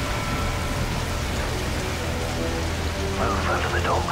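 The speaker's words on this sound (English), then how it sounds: "Move over the docks. The storm will keep us quiet." Steady heavy rain pours during a storm in a Call of Duty: Modern Warfare 3 mission near docks, a dense continuous wash of droplets with a low rumble underneath, with faint muffled voices briefly near the end.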